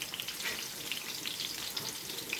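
Onions sautéing in olive oil in a pan, a dense, even crackling sizzle with fine popping spatters throughout, close and steady with no talk.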